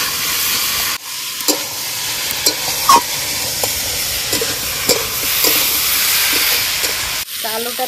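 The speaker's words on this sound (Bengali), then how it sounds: "মশলাটা তেল ছেড়ে দিয়েছে, এবার আমি আলুগুলো দিয়ে দেবো" Potato pieces sizzle in hot spiced oil in a pan, a steady loud frying hiss broken by scraping stirs and two sharp bursts as ingredients drop in, with no talking.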